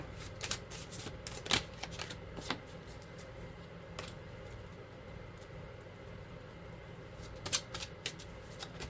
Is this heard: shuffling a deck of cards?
yes